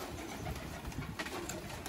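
Kept pigeons coo softly in a loft, a faint, low, continuous murmur against a hissy background with no voices.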